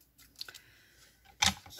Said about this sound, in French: tout redécouper avec les petits ciseaux